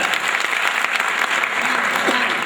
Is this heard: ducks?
no